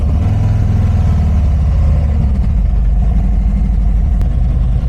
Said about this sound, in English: My neighbors are gonna be pumped they get to hear this bike again.